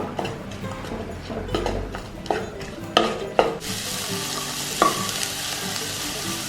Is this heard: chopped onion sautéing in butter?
yes